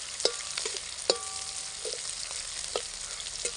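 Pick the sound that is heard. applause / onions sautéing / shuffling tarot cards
onions sautéing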